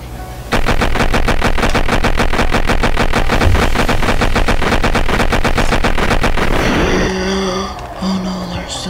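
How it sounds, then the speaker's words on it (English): A minigun roars in Garry's Mod, a dense unbroken stream of rapid loud shots that runs for several seconds, then cuts off into scattered game noises. "Minigun."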